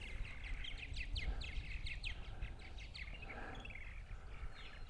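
Purple martins call and chirp outdoors on a May morning on eastern Long Island, New York: a busy stream of bright, overlapping chirps and warbles from several birds at a moderate distance over a steady low rumble of wind or background noise.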